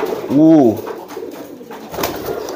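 A single soft pigeon coo, a low rounded warble rising and falling, heard close over a steady background hum with faint noise afterward.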